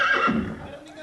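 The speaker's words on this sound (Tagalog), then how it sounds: "May kabayo din." A horse gives a short, loud, close whinny that falls in pitch and fades within a second, heard alone.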